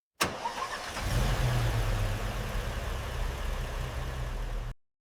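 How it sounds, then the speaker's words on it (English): A Rolls-Royce Boat Tail engine catches with a sharp start and settles straight into a smooth, steady idle, a deep even hum held close for several seconds before cutting off abruptly. "Flawless engine start, luxury rebirth."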